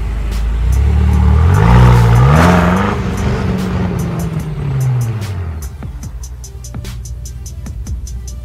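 A 575-horsepower 2016 BMW M5 F10 Competition with a double-clutch transmission revs hard, its engine note rising and falling through several sweeps before settling back to a rumbling idle with faint ticking.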